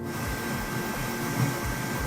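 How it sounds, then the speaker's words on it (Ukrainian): A Creality K1C 3D printer runs at high speed, giving a steady whirring hum with rapid rhythmic stepper-motor buzzes and faint clicks, close by and without talk. "Я не очікував такої швидкості від цього принтера, реально, і такої технологічності."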